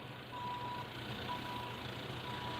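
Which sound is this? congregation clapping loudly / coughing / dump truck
dump truck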